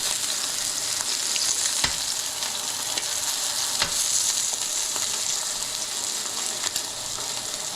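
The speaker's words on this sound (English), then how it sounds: "It's kind of sticking to the pan already, so just kind of give it some time." Steak sizzling steadily in a hot pan where it has started to stick, a loud continuous fry with a few sharp clicks and scrapes near the 2 and 4 second marks.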